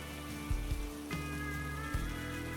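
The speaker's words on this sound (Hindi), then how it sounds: "थोड़े दिनों में बारिश शुरू हो जाती है।" Rain patters steadily over sustained background tones in a cartoon story soundtrack, with a few soft thuds of drops landing nearby.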